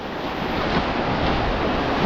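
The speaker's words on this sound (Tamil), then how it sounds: "பாருங்கள், இது வந்து அலை தான்." Sea waves wash onto the beach at Mannithalai in a steady, close roar of surf, with wind buffeting the microphone and no voices.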